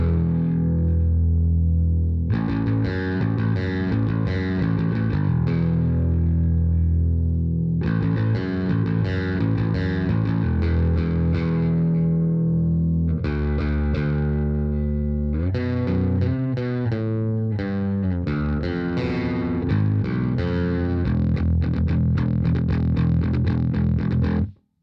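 A bass guitar on its bridge pickup, a 1984 Peavey Foundation through a Peavey Max bass preamp, plays a loud, continuous riff with a gritty, slightly distorted edge and steady repeated notes.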